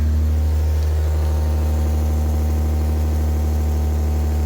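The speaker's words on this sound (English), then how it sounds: "There's a major exhaust blow." A car engine idles with a steady low rumble and a rough, puffing exhaust note from an exhaust leak throughout, no voices.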